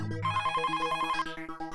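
A telephone rings indoors, first holding a bright sustained tone, then breaking into a fast regular pulsing ring that carries on to the end, loud and clear with no one speaking.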